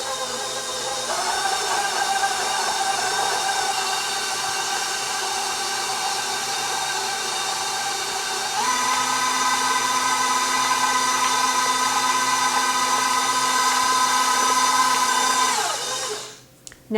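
A stand or hand mixer creams chocolate chip cheesecake batter in a home kitchen, a steady loud motor whir that shifts pitch partway through and runs without a break until it winds down at the end.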